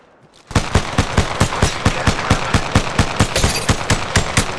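Rapid automatic gunfire in Apex Legends, a fast even string of loud, close shots starting abruptly and running without a break, no talking.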